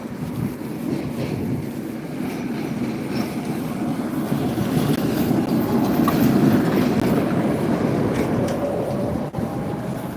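A tram rumbles past at close range, a loud, steady low roar with faint rattling that swells slightly midway and continues throughout.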